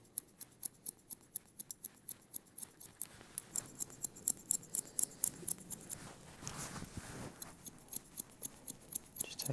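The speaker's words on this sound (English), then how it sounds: "I'm just going to point cut very edges, just so we get a little bit more movement" Scissors point cutting the edges of long, wavy hair at a barber's, a steady run of quick, crisp snips close by with no talking.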